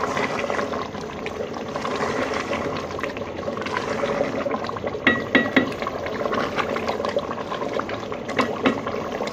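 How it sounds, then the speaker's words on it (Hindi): Beef korma meat frying and bubbling in ghee, a dense steady sizzle with soft bubbling pops and a few louder crackles, continuous and close throughout. "ये देखें हम भूनते जाएंगे और इसका अच्छे से घी ऊपर आता जाएगा"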